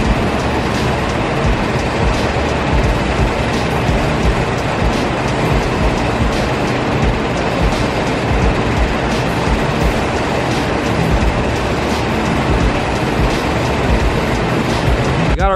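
Spray paint hissing onto truck parts, including the wheel wells of an LS-swapped S10, as a loud steady broadband roar held close for the whole stretch with no breaks.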